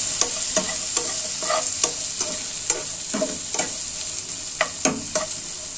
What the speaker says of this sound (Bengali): এগুলোকে আমি হালকা একটু ভেজে নেব, বেশি ভাজা করব না